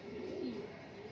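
A domestic pigeon from a pure-bred flock for sale gives a soft, low coo, close and continuous over a brief moment.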